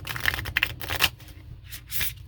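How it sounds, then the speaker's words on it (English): Thin Monster Hunter World board game cards are shuffled by hand, giving a few quick riffling bursts and soft clicks up close, then a pause and a final brief riffle. "See how easily we can shuffle these."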